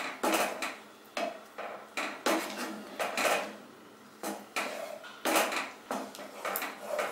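Tomato chutney with aam papad being stirred in a pan, a series of repeated scraping knocks and clatters of a utensil against metal, close and fairly loud, with no talk.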